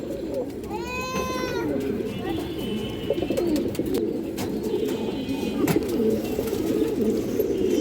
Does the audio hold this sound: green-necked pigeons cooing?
yes